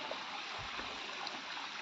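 Water flows steadily in a stream or large drain beside a village road, a continuous broadband rushing hiss that stays even and close throughout with no pauses.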